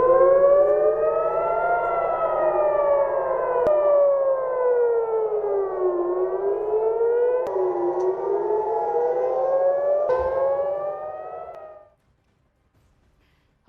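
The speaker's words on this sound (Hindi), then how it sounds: "ये खतरे का सायरन है।" A civil defense air raid warning siren in Tel Aviv wails loud and steady, its pitch rising and falling in long slow sweeps for about twelve seconds before cutting off into near silence.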